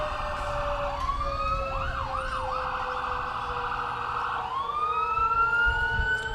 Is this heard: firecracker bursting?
no